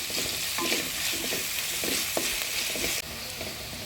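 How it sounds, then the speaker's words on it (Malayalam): Two onions sauté in hot oil in a pan, giving a steady loud sizzle broken by soft, regular stirring scrapes, with no voices. "അപ്പോൾ അതേ എണ്ണ ചൂടായി ഞാൻ എനിക്ക് രണ്ട് ഉള്ളി ഇതൊന്ന് വഴറ്റിയെടുക്കാം"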